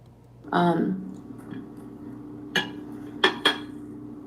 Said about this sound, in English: Eating rice with a fork sucks.